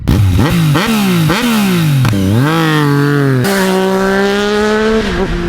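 A Yamaha MT-09 motorcycle engine with a full Akrapovic carbon exhaust revs hard through several gear-like climbs, its loud exhaust note rising and dropping in sharp, repeated surges before holding a steady roar.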